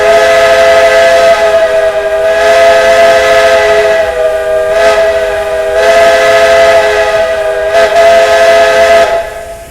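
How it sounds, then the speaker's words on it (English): A steam-style train whistle from the Roblox game Dg County blows loud and sustained for nearly ten seconds, its steady chord swelling and dipping in a few pulses with no talking. "this has a clippable whistle"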